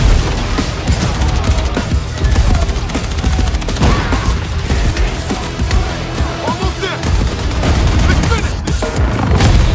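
Battlefield 6 multiplayer combat erupts in dense, continuous gunfire and booming explosions, loud and chaotic throughout, with bursts of automatic fire layered over heavy blasts.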